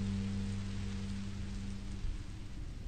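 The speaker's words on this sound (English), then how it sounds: "I didn't know it would rain." Rain in the video game Minecraft Story Mode, a steady dense hiss of rainfall over low tonal hum, continuous and fairly loud, with no talk.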